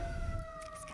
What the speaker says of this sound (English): it's a big siren going